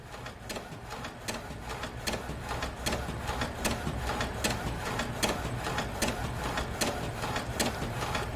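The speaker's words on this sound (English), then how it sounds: "Just give it a second to finish printing" Inkjet printer running a polyester sublimation transfer print, a steady mechanical whir with regular clicking strokes of the print head traveling back and forth, moderately close and continuous.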